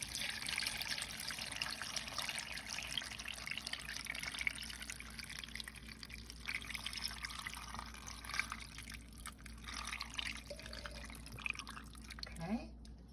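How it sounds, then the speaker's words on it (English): Water runs into a crock pot of beef bones and seasoning for stock, a faint trickle and dribble in a kitchen with soft drips, quiet and close, with some talking faintly around it. "I'm going to finish filling the crock pot up with water."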